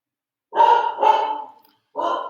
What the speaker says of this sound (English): The dog that's barking